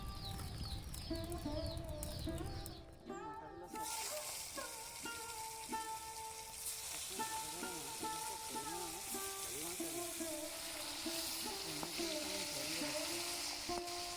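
Large koi fish frying in hot oil in a pan, cooked with thankuni leaves: a steady broad sizzle that starts a few seconds in and runs on, with birds chirping faintly in the background.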